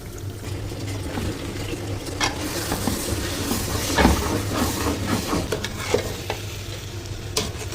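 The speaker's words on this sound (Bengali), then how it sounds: "খুবই সাবধানে নাড়াচাড়া করছি" Rice with egg being carefully stirred and fried in a pan at home, with close spatula scrapes and clicks over a steady broadband sizzle that swells slightly midway; no voices.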